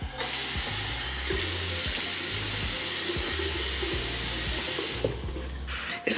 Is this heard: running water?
yes